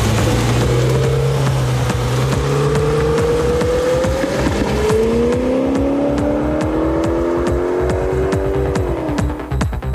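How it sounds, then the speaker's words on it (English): A Brabus-tuned Audi RS6 runs flat out on the Nardo circuit, its engine droning loudly and rising steadily in pitch through long gear pulls, with a shift near the end, heavy wind and road roar throughout. "Roland Meyer's Audi RS6 is the first to be tested"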